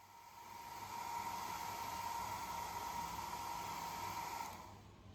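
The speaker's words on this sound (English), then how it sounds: "I'm going to go ahead and make a second pass with the hair dryer." A hair dryer blows steadily over waxed canvas to work out creases, a faint, even whooshing hiss with a thin whine that ramps up, holds for several seconds, then cuts off near the end.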